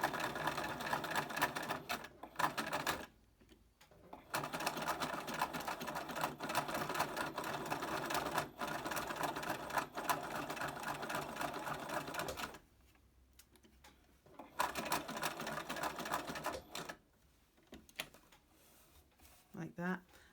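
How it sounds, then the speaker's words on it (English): Sewing machine stitching a buttonhole on scrubs trousers, a loud continuous rapid mechanical whirr in long runs broken by short pauses, close up with no talking. "So we're going to do our little buttonhole there."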